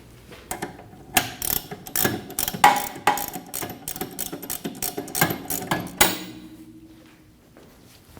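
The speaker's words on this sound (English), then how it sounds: "Snug the bolt down." A hand ratchet snugs a bolt through the rear shock into the knuckle of a 2012-2022 Volkswagen Passat, with quick bursts of sharp, close clicking and pauses between strokes, followed by a fading metallic ring.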